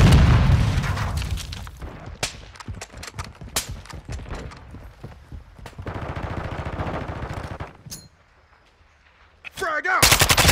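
Rapid gunfire bursts and a grenade blast in a Call of Duty Modern Warfare II team deathmatch: loud, close rattling volleys and booms, a brief lull, then another burst of fire, with in-game voices calling out between shots.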